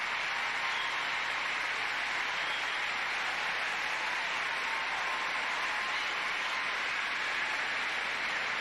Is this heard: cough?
no